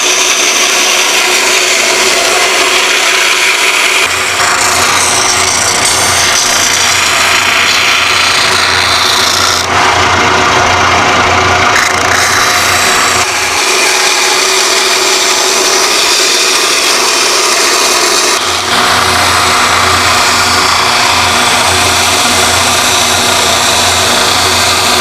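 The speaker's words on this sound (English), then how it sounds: "we're going to take it to the bandsaw and then back to the sander" A bandsaw and sander work wood, grinding steadily in a loud continuous whine and rasp that shifts in pitch as the machines change, with no talking.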